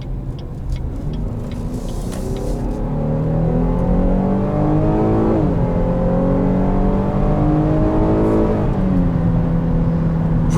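2020 Chevrolet Blazer RS with a 3.6 V6 engine accelerating hard from inside the cabin, a loud rising engine drone with two audible gear shifts as the revs climb and drop.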